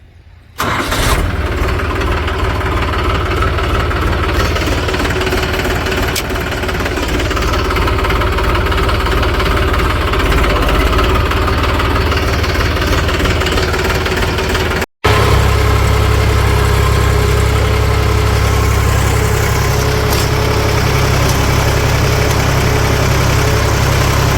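A tractor engine runs loud and steady close by for about 24 seconds, with a mid-pitched rumble and a brief cut near the middle before the drone resumes.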